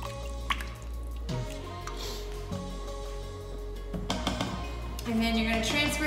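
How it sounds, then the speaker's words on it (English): Green chili chicken soup being stirred in a pot: wet squishing and sloshing with drippy liquid sounds, close and steady over a constant low background hum. "So you're just gonna give your pot a big stir, get everything nice and combined."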